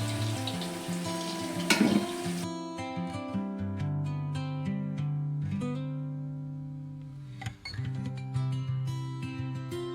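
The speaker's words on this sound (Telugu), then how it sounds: "సగం కాయలే పట్టినాయి, సగం మళ్ళీ వేయించుకోవాలి. వేగిపోయినాయి ఫ్రెండ్స్, ఇలా వేగాలి" Amla, Indian gooseberries, fry in a pan with a continuous sizzle, a few clinks and stirring knocks, and background music running throughout.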